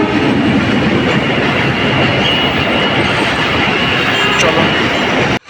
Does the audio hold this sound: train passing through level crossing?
yes